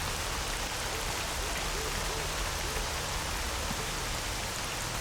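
Heavy rain in the S.T.A.L.K.E.R. Anomaly video game, a dense, steady hiss of downpour that fills the whole stretch at a constant level with no other sounds.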